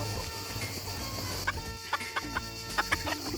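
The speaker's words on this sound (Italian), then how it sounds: "In questo nuovo video abbiamo qui Gallo Achille, che è il fedele condottiero che ci assisterà nella pulizia di questi pollai" A rooster near a chicken coop gives a series of short, sharp clucks in an uneven rhythm, close and fairly clear, over a constant background hum.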